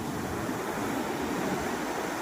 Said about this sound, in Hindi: इसी ज़बरदस्त लहरों के कारण यहाँ पर कोई भी तैरने के लिए नहीं आता है